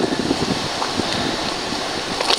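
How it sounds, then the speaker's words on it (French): Strong wind gusts roar across the microphone outdoors at a solo tent bivouac, a continuous rushing buffet with small irregular flutters. "Il y a un vent de folie. Vraiment un vent de folie."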